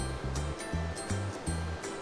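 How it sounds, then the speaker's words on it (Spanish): The Paquí river rushes through a rocky grotto with stalactites in San Gabriel, Ecuador, a steady, loud wash of flowing water under low, pulsing musical tones. "Por sus entrañas se abre paso el río Paquí."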